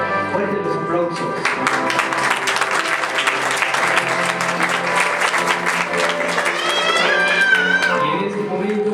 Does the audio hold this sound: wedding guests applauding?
yes